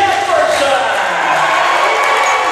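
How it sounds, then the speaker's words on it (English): A basketball gym crowd cheering as a Lady Cats girls' basketball starter is introduced on senior night: loud, continuous roar of voices and shouts filling the hall for the whole moment, close and dense. "Big cheer for Trinity Jefferson, who is introduced as a starter"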